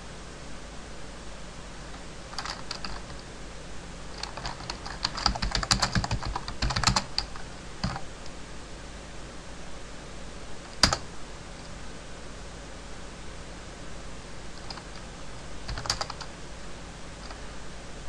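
A git clone command typed on a computer keyboard, with scattered bursts of quick key clicks and one louder keystroke standing out over faint steady background hiss.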